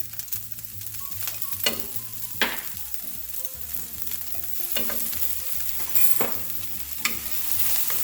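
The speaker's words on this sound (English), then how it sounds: "now into this pan, we are going to add the green onions and some minced garlic" Green onions and minced garlic frying in a pan, a close, continuous sizzle broken by several sharp clinks and scrapes of stirring, building a little louder toward the end with no speech.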